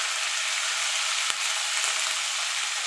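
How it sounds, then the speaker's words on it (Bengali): Cauliflower fries in hot oil with turmeric and salt, making a dense continuous hiss and sizzle, with one brief stir. "দিয়ে এটাকে আমি লাল লাল করে ভেজে নেব।"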